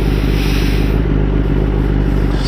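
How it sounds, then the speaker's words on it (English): Motorcycle engine idling and revving close by at a steady loud level after pulling off onto the shoulder, with a deep rumbling drone and some rattling clatter throughout. "Probably could have shut the bike off by now"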